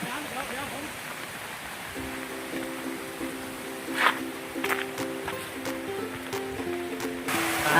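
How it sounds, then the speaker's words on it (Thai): A local natural waterfall in a rural Thai village, a natural rock slide, gives a steady broadband rush of falling water throughout, with a faint tonal hum and a few brief clicks on top. "อันนี้คือน้ำตกท้องถิ่นนะครับ"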